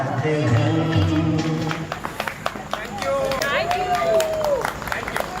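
Audience clapping at a 100th birthday celebration, a crowd applauding along with singing and murmured chatter, with scattered claps and voices close by.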